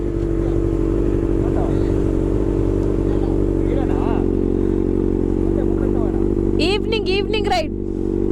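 A Ducati V4S superbike on an evening ride gives a loud, steady engine drone with heavy wind rush, and a brief burst of high chirping noise near the end.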